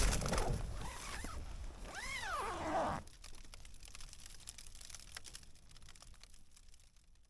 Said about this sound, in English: I'm zipping up for the night because it's freezing.